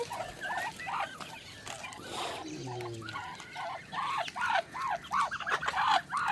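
Ducks and a rooster call close by in a rural poultry setting, with repeated rhythmic quacking calls that grow louder toward the end over soft background noise, and a brief lower call in the middle.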